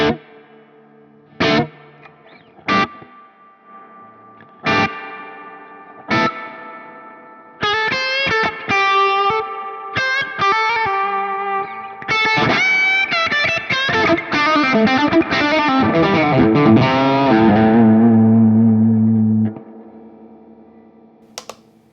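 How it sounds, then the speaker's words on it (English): Guitar run through a Strymon Volante pedal set to its spring reverb: plucked notes and chords ring out with a lush, splashy tail that builds into a dense wash, then fades, loud and with no talking. "It's a very nice spring reverb."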